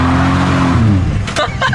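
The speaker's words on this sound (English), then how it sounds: "It wants to skid so much. It's the wet, dude." A Ford Falcon drift car with a factory manual gearbox and locked differential on a wet road, its engine droning loudly and steadily, then short tyre skids squealing near the end, with no talk.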